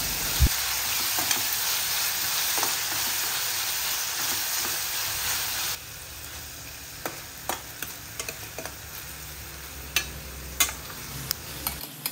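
Small pineapple pieces fry in a pan with a steady close sizzle that drops to a quieter hiss midway, broken by a few sharp clinks of a spoon against the pan.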